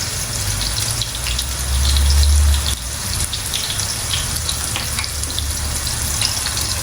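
Eggplant fries in oil in a pan, giving a continuous crackling sizzle with a brief deeper rumble partway through, and no one talks.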